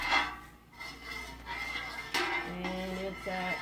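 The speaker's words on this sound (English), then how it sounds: "Anyway, so here we are, stirring." Milk for cheese is stirred in a cast iron pot, giving a soft continuous scraping swish with occasional faint metallic clinks, close and quiet, with no talking.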